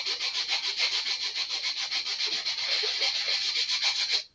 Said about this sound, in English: it's a good time to just sand it. This makes an awful sound,